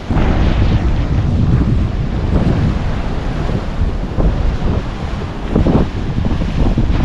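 Surf rolls in against the North Jetty coast in Humboldt during an atmospheric river storm, a steady loud wash of breaking waves mixed with heavy wind roar on the microphone.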